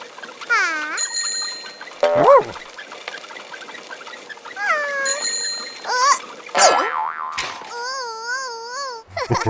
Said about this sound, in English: rings his bell when he passes people on his bike